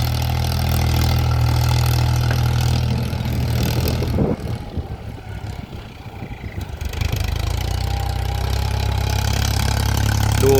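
John Deere tractor levelling a rice paddy, its engine running at a steady strong drone that dips briefly mid-way then settles back to an even loud rumble, no talking.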